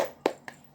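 Two sharp hand claps from a teacher leading a classroom clapping cheer, the first louder and the second lighter about a quarter second later, close and dry with no voices.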